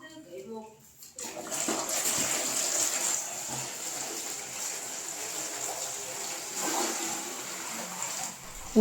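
Cold water pours and splashes steadily for several seconds into a rice wine still in rural Vietnam, a close, hissing rush, with a faint voice at the very start.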